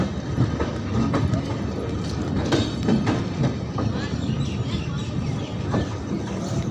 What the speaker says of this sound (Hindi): हमारी ट्रेन यहाँ से डिपार्च हो चुकी है।